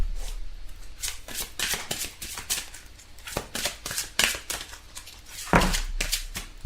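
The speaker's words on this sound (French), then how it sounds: "Alors on va tirer quelques cartes pour avoir des informations en plus." Tarot cards being shuffled and drawn, a series of close crisp riffling bursts and slaps in an irregular rhythm, with no talking.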